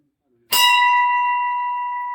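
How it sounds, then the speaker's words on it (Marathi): A temple bell at Pandavgad fort is struck once and rings out loud and close, its bright metallic tone sustaining and slowly fading through the rest of the moment. "ही जी घंटा आहे तर ती वाजवून आपण"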